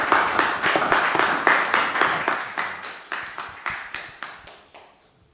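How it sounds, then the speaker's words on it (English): A room full of people applauds, the clapping falling into a loose rhythm before gradually thinning out and fading away. "another round of applause for Dr. Ikemi."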